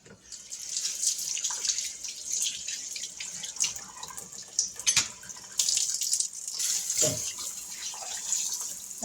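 Water runs steadily from a faucet into a farmhouse stone sink as it is rinsed out, a continuous splashing stream with a few brief louder gushes and drips, no talking.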